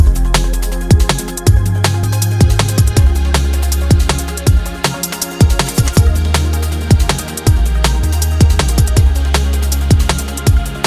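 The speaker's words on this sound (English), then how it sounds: "it started off as a piano sound for playing live, and then it's been tweaked into a slightly different sound now" A backing track with a hook-line synth tweaked from a piano sound plays loud and close, punchy repeated notes riding over a steady driving beat with heavy low thumps and no voices.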